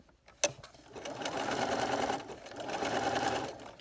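A sewing machine fitted with an open-toe embroidery foot stitches coiled rope into a bowl, a sharp click followed by a steady close whirring drone that dips briefly midway and then resumes.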